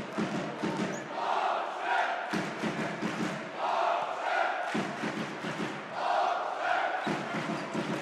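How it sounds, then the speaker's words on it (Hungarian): Home fans at a basketball game between Atomerőmű SE and Alba Fehérvár chant in rhythmic rising waves, with thumping beats and a loud crowd roar filling the arena. "Megjön a hazai szurkolók, a hazai közönség hangja is"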